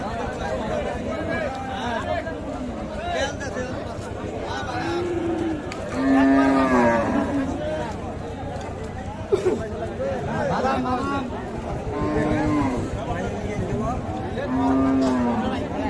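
Cattle lowing repeatedly at a busy livestock market in Bangladesh, several drawn-out moos rising over a steady murmur of crowd chatter and nearby voices talking.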